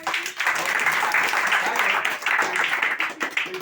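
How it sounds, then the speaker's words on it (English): An audience claps steadily, a dense patter of many hands going on without a break, with faint talk mixed in. "please stop your clap"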